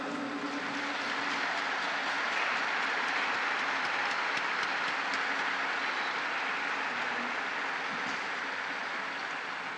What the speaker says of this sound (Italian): Un applauso ai 9 beati.